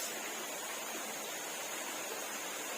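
Air Terjun Mangsang, a waterfall at Tanjung Piayu on Batam, roars as an even, unbroken rush of falling water that stays steady and full throughout, with no voices.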